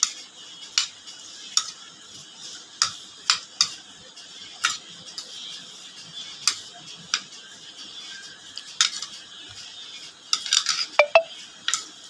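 Spoon clinking against a bowl while fruit chaat is mixed with black pepper, salt and sugar, repeated light taps at an uneven rhythm, close and fairly quiet, quickening at the end.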